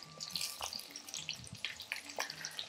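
Garlic and ginger paste frying in a pan for an Indian restaurant-style curry, a light crackling sizzle with scattered pops and spits at close range, no talk.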